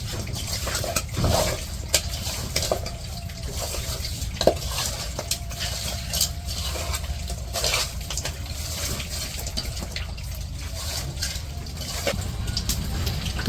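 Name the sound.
hand-mixing pangas fish with turmeric, chili powder and salt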